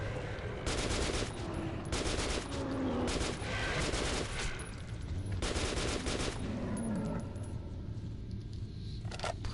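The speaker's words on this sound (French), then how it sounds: "Pourquoi je tire des balles de feu?" Gunfire in the Metro 2033 Redux video game: loud bursts of rapid shots in several clustered volleys over a dense, continuous rumbling game background, with metallic clinks between bursts.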